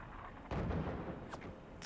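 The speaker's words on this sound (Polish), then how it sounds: "Czyli dwójką strzelamy moździerzem." A mortar shot fired in the video game Forts: one sharp, loud boom bursts out midway and decays into rumble, followed by a brief whistling streak and a fainter crack near the end.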